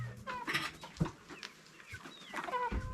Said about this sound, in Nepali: टन्नै छ लोकल कुखुराहरू हेर्नु।